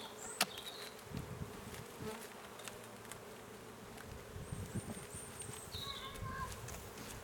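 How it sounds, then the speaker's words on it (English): Honey bees swarm around an opened hive in Essex, a steady close buzzing drone with a few sharp nearby passes and occasional bumps, heard without any talking. "So these are actually very calm bees."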